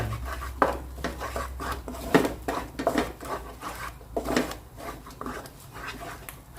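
Coriander seeds and peppercorns stir-fried over medium heat in a pan for Thai green chicken curry, with irregular scraping, clinking and rattling of the utensil against the pan, plus soft sizzling running steadily throughout.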